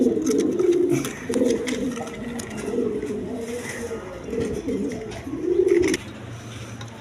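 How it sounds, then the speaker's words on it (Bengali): A pair of Maltese pigeons in a large cage give repeated low throaty coos in rolling bursts, close and fairly loud, separated by short pauses. "দর্শক এখানে এক পেয়ার মাল্টেস কবুতর আছে। দেখেন কোয়ালিটি সম্পন্ন কবুতর"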